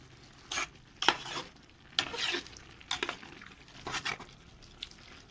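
Vegetables fry in a pan of hot vegetable oil while a utensil stirs them, giving a soft steady sizzle broken by several distinct scraping strokes about a second apart, close and alone.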